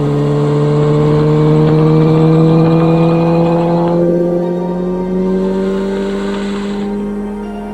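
A Kawasaki Ninja H2 motorcycle accelerates hard to overtake, its engine note climbing steadily in pitch as it pulls, loud and close throughout with a slight dip midway.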